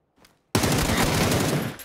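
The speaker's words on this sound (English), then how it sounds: "when you hear a gunshot, it just peaks audio" Rapid automatic gunfire from the video game PUBG bursts in suddenly at full loudness after near silence, a dense sustained volley that dominates for over a second before tapering off.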